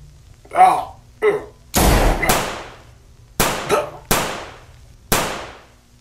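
Gunshots ring out in a zombie short film, with a short voice exchange at first and then about five sharp, loud bangs, irregularly spaced, each one trailing off in a brief echo.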